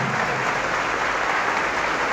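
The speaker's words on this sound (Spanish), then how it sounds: "Aplauso pues para el padre, gracias padre." A church crowd gives sustained, dense applause for a priest, loud and even throughout with no pauses, and the room stays free of speech.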